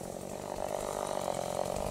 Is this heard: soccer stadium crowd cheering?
no